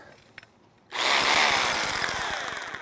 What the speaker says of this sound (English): My hammer drill here.